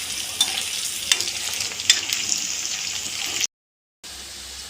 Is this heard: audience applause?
no